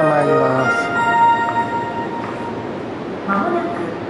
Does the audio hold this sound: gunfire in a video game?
no